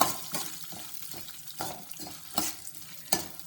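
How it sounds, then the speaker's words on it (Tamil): Cumin, chana dal, urad dal and black pepper sauté together in a pan, with soft frying hiss broken by a run of sharp scraping stirs at a quick, uneven rhythm, close and fairly quiet. "எல்லாத்தையும் சேர்த்து வதக்க போகிறோம்"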